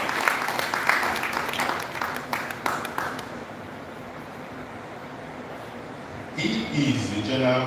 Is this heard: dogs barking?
no